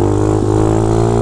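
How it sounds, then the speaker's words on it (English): A motorcycle engine holding a loud, steady drone during a wheelie, with a brief blip as the clutch is kicked, close and dominant throughout. "what better time on the video for them to want to do the mini G and a clutch kick?"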